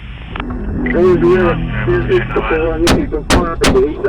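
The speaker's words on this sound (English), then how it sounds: "One of the individuals in the vehicle began firing at officers. Shots fired." Gunshots fired at police officers from a vehicle on an interstate, sharp cracks arriving as several separate bursts near the end, heard under steady talk and radio-like chatter.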